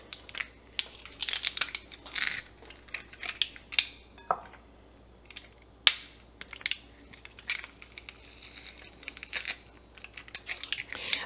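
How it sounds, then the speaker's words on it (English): Garlic cloves dropped and handled around a jar of cucumbers being packed for pickles, giving a string of close, irregular clinks, crinkles and small knocks with brief pauses between them. "So let's add some garlic into our cukes."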